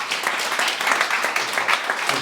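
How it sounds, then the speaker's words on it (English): Audience at an evening money-matters event clapping for a speaker, a full round of applause from a roomful of people, steady and fairly close for a couple of seconds. "Can we have a big round of applause, please, for Jamie?"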